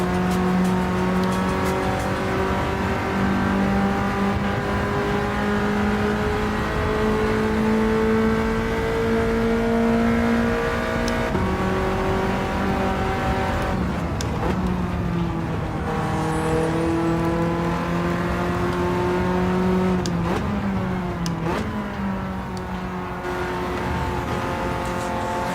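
BMW race car in Gran Turismo 7 on PS5, engine revving loud and continuous, rising through gears with sharp pitch drops at shifts, sustained throughout with no talk.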